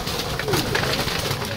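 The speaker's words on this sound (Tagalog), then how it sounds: "So eto mga kalapatids, gutom na gutom, mga ibon natin." Hungry domestic pigeons coo in a flock while feeding, their soft throaty calls close and overlapping amid a busy, rustling background for a brief moment.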